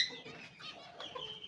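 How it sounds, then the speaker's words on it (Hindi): Chickens sunbathing in a home bird setup cluck softly and briefly nearby, a few short, low murmuring calls with no one speaking. "ये मेरी मुर्गियाँ इस टाइम सनबाथ ले रही हैं।"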